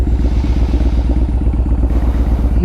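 A motorcycle engine idles steadily nearby on a beach outing, a dense low throb with a fast, even rhythmic pulse and light mechanical clatter, continuous and loud with no talking.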